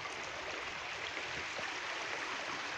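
The Dederkoy river flows near its lower waterfall, giving a steady, soft wash of rushing water that stays even throughout, with no voices.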